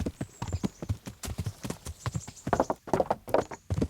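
Horse hooves clip-clop steadily in the medieval game Kingdom Come: Deliverance, a rhythmic run of close, crisp hoofbeats from a horse named Pebbles, brief whinny-like tones above and no talk.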